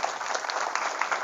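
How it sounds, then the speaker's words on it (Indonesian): Applause from a seminar audience of parents at a modern Islamic boarding school, a steady dense wash of many hands clapping throughout, fairly distant with no talk over it. "Tepuk tangan buat beliau-beliau."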